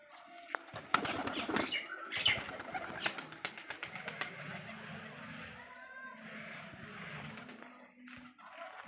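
Pigeons flap their wings in several loud, close bursts, with soft cooing and light chirps in between and a faint voice at times.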